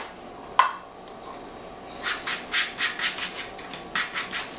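Oatmeal crust mixture for strawberry oatmeal bars pressed down into a baking pan: a sharp knock, then a run of soft rhythmic scraping and pressing rubs, fairly close and quiet, with no talking.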